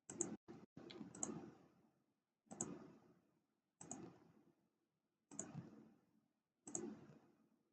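Computer mouse clicks on a desktop while managing a Facebook group page, faint and close, a few quick clicks in a cluster followed by evenly spaced single clicks with short rattling tails, separated by silence.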